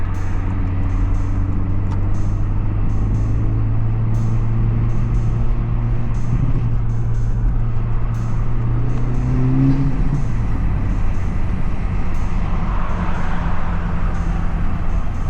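Honda Civic Type R FL5 with an aftermarket exhaust, louder than stock, driving at night in Kansas City: a steady, loud engine drone and exhaust rumble with shifting low tones as revs rise and fall, heard alone from inside the car.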